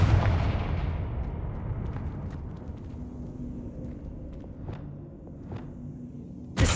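Confringo spell explosions from the Hogwarts Legacy game, a broad booming blast that fades into rumbling debris with a few sharp crackling impacts and a fresh burst at the very end.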